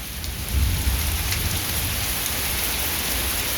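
Steady rain pours down outdoors, a close, even hiss of drops on surfaces with a low rumble of thunder underneath, no voices.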